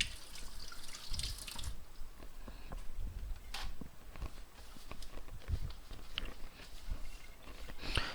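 Tap water runs into a kitchen sink during hand washing, a faint continuous splashing with small drips and clatters, fairly distant and low in level.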